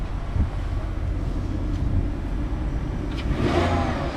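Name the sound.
Beetle Turbo S car engine running and revving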